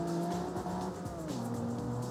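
Game car in CarX Street at maximum turbo speed, engine tone steady and loud with gear-shift pitch steps and faint tire squeal, continuous throughout.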